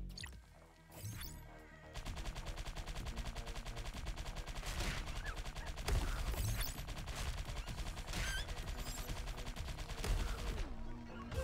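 Black Widow & Centipede: Recharged arcade game action: a dense, loud, nonstop barrage of rapid-fire shots and explosive crashes that keeps pounding without pause, with no voices over it.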